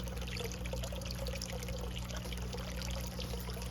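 Water pours and trickles steadily into a bottom tank through adjusted valves, a constant flowing splash with a low hum underneath and no talking.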